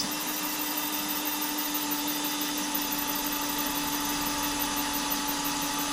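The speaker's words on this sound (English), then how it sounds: "I have a little drill rigged up" A small drill trimming a .300 HAMR cartridge casing to length, a steady, continuous high whine running unbroken throughout, with no talking.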